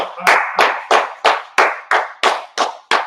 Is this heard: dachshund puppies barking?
no